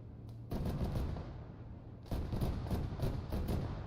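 Suppressing automatic fire at vehicles and a building in Arma 3, delivered as two rapid, rhythmic bursts of close, loud shots with a brief lull between them.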